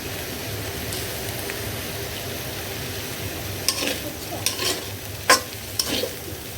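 Vegetable fry stirred in a hot pan, a steady sizzle running throughout with several sharp scraping clinks of the spoon toward the end, close and clear with no talking.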